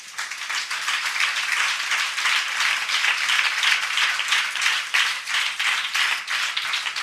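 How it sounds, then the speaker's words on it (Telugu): A congregation at a Sunday worship service claps together in a dense, steady burst of many hands that holds at an even loudness for about seven seconds. "ఒకసారి చప్పట్లు కొట్టండి"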